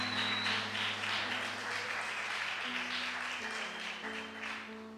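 Children applauding inside a church during a sermon, a sustained crackle of clapping that carries on steadily over a low organ or keyboard drone, with faint voices mixed in.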